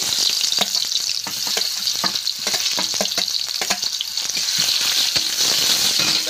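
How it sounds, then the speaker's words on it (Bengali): Onions sizzle loudly in hot oil in a wok after potatoes were fried, a steady crackling fry with frequent sharp pops and spits, close and without talking. "আর পেঁয়াজগুলো তেলে দিয়ে দিচ্ছি।"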